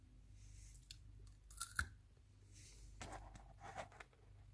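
Japanese chewing gum with a pink outer shell and green minty centre, made by Meiji or Lotte, bitten and chewed close up, giving a few soft crunches around the second mark and then quiet moist chewing throughout.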